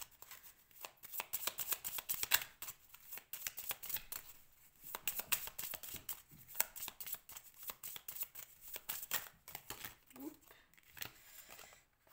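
Tarot cards being drawn, shuffled and laid down in a reading: a long run of soft, rapid papery flicks and riffles, with someone speaking quietly in French now and then.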